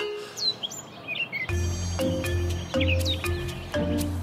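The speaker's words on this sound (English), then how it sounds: "The birds are singing." Birds sing in short chirps and whistles over a quiet background, with a low tonal hum and a few soft taps joining partway through.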